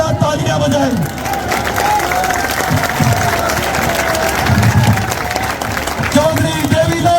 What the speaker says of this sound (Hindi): आप सब लोग एक बार जोरदार तालियां बजाएं